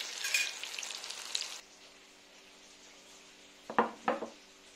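Green peppers frying in hot oil for a stuffed pepper dish, a loud dense sizzle for the first second and a half that then drops to a faint hiss, with a few clattering kitchen knocks near the end.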